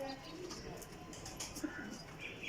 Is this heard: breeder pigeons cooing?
yes